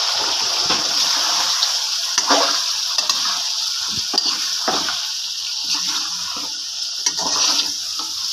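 Boiled beef fries with masala in a karahi, giving a steady sizzling hiss broken by repeated scraping stirs, close and fairly loud, with no talking.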